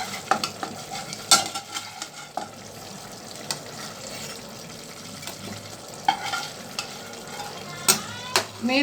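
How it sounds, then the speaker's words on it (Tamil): Pieces of fish fry for fish biryani in a pan, sizzling steadily at close range while a utensil stirs and knocks against the metal in irregular sharp clacks, with no voices. "மீன் நல்லாவே பொரிஞ்சு வந்திருக்குது."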